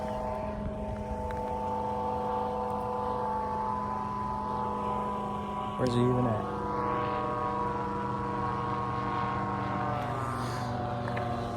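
Airplane flying overhead on an off-road trail with a 2024 Tacoma TRD Off-Road, a steady tonal engine drone holding throughout at moderate level, with brief talk near the middle.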